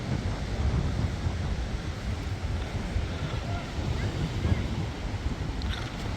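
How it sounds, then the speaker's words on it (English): Ocean waves churn steadily against the Fuerteventura shore in the Canary Islands, a continuous broadband wash with heavy wind buffeting the microphone throughout. "when the waves have been a little bit aggressive, then it's churning up all the salt"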